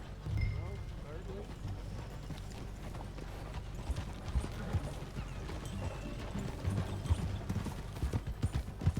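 Horse hooves clip-clop steadily at a walking pace in the video game Red Dead Redemption 2, with a faint whinny and occasional mechanical clunks in the background.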